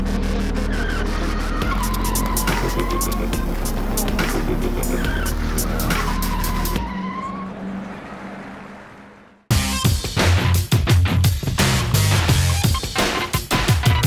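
A 595-horsepower Nissan 350Z race car drifts with screeching, skidding tires and a roaring engine, loud and sustained, dropping briefly to near silence before the tire squeal and engine noise burst back in at full volume.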